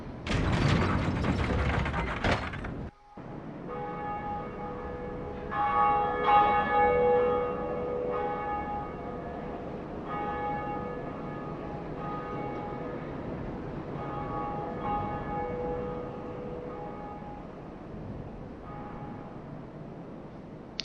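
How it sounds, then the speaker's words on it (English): Dark Souls cutscene after ringing a bell: a loud burst opens, then a large bell tolls with a lingering metallic hum, joined by steady grinding gears and ratcheting clanks of a heavy mechanism turning. "That's your cutscene you get for ringing the bell."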